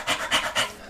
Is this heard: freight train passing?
no